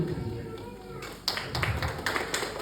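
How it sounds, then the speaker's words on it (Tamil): An audience claps at a thanks-giving speech, scattered light clapping building after a moment into a burst of applause, with a voice heard faintly beneath it. "அதே அவருக்கு மட்டும் தனிப்பட்ட முறை கைதட்டுகிறீர்கள்"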